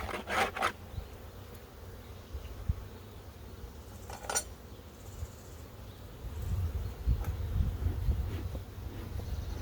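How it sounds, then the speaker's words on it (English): A low, steady buzz of many honey bees at an open hive fills the background, with a few clinks and taps of frame handling over it. "The activity of the bees is considerably more though."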